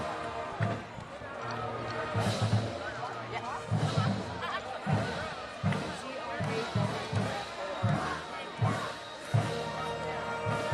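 A high school varsity football crowd on senior night roars and cheers on its feet, a broad wash of voices with rhythmic thumps and claps, while an announcer talks over it.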